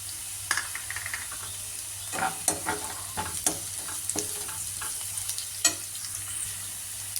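Onions and curry leaves frying in a pan for a fresh field bean stir-fry sizzle softly, with a series of sharp stirring scrapes and taps from a spatula scattered across it.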